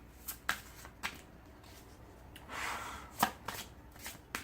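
Playing cards being shuffled and drawn during a card reading: several crisp, close snaps and flicks spaced irregularly, with a brief rustling riffle midway, faint and without speech.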